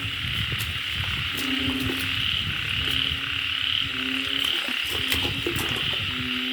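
A chorus of frogs croaking repeatedly in short, overlapping calls over a constant hum of insects and water after rain at a frog breeding pond, fairly loud and nearby.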